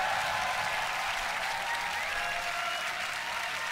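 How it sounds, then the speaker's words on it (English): Audience applause fills a beatbox loopstation championship hall, a dense, steady wash of clapping that holds at the same loud level throughout without a break. "One more round of applause, Josho"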